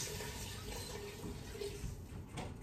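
About four cups of water pour into a pot of beef tip stew as a continuous rushing, splashing stream that runs for the whole short stretch.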